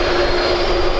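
A Jet2 Airbus A330 at Birmingham airport gives off a loud, steady engine roar with a sustained whining tone, close and unbroken for the whole second.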